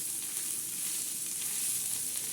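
Steady, even sizzle of prawns coated in green chili paste frying in a hot pan, a continuous crackling hiss with no voices.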